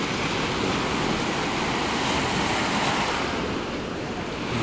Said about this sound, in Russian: Вот такие вот, собственно, волночки.